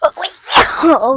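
One sharp, loud sneeze bursts out close by, set among quick exclaimed words from a person during a Japanese snack tasting.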